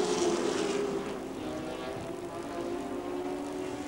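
Touring cars racing at Adelaide International Raceway in 1984, heard as a steady, droning engine roar that holds a high, sustained pitch and eases slightly partway through, with no talk over it.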